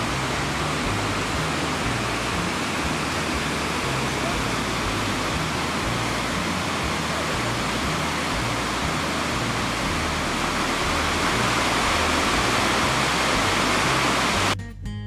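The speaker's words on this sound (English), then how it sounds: "This is Tower Falls Creek. You can see why they call it Tower Falls." Tower Falls and its creek in Yellowstone roar as a steady, loud rush of falling water that fills the whole stretch without a break, ending with a brief handling bump.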